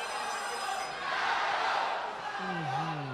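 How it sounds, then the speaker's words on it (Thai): Crowd cheering at the Max Muay Thai stadium before a China versus Thailand fight, a dense roaring swell of many voices that rises mid-clip, with a commentator's voice over it. "เสียงเชียร์กระหึ่มแม็กซ์สเตเดียมเลยครับ"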